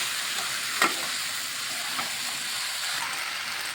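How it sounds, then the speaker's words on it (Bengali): Tomato and spice mixture frying in a pan gives a continuous loud sizzle and hiss, with a few sharp scrapes of stirring breaking through. "মানে খুব সুন্দর করে একটু ভাজা করে নিচ্ছি।"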